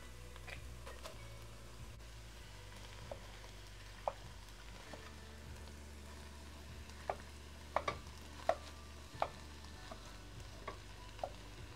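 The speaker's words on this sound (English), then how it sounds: "now we're going to add our ground beef" Ground beef sizzles and fries in a hot pan for chili, a quiet steady crackle broken by occasional sharp clicks and scrapes of stirring.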